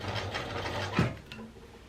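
A sewing machine stitches a seam in old bedsheet fabric, a faint, brief mechanical whir and clatter that lasts about two seconds with no voices.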